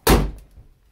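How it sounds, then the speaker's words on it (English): A car hood on a vehicle with a GM 3.6 liter V6 slams shut in one heavy, close thunk that quickly fades. "Let's just make sure the hood'll shut."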